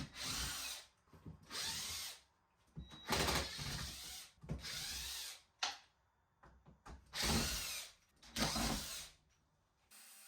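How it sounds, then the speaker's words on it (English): A circular saw cutting plywood during bathroom demolition, several loud whining cuts of one to two seconds each with brief pauses and clatter between, close by and without talk. "The easiest way for me to remove all of the plywood was to cut it with my circular saw first."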